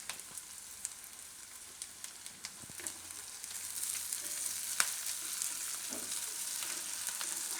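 Onions and green chilies fry in hot oil for a Gujarati onion-papad curry, a close steady sizzle that grows louder midway, with occasional spoon clinks and stirs and no voices.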